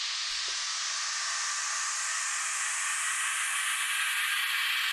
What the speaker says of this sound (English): And I also have this pan riser over here.